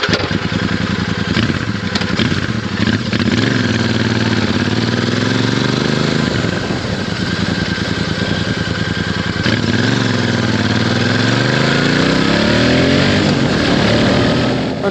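Royal Enfield Meteor 650 twin-cylinder motorcycle engine at a steady cruising speed, a loud continuous throb with rising and falling pitch and heavy wind rush, heard throughout while riding.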